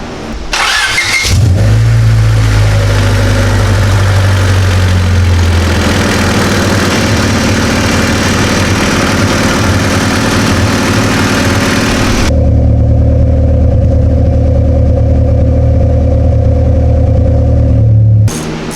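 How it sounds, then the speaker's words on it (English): A lowered Honda Civic EK hatch with fresh exhaust work starts up for a heat cycle: the starter cranks, the engine catches and idles loudly with a steady deep exhaust drone, briefly rising before settling back to idle. "climbing up there to start it up, give it its heat cycle"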